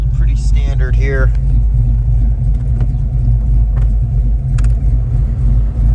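A 1988 Ford Mustang engine idling steadily, a strong low rumble heard up close throughout, with a voice speaking briefly over it at the start.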